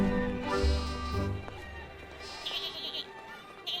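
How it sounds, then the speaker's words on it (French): Sheep bleating in a cartoon farm scene, a couple of short, fairly close bleats near the start, followed by quieter background noise with soft high-pitched chirps. "Regardez, il y a des moutons là-bas."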